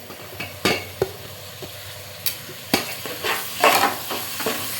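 Onions, chilli, tomato and mint frying in oil in a pot for mutton biryani, a steady sizzle broken by repeated sharp scrapes and knocks of a spoon stirring against the pan, close and without talk.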